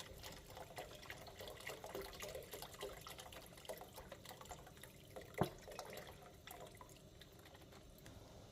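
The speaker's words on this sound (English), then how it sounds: "And here I'm going to add some water that goes right into the pot." Water runs from a tap or jug into a soup pot while Zuppa Toscana, an Olive Garden style potato and sausage soup, is being made. The steady, moderately loud trickle continues throughout, with one brief clunk partway through.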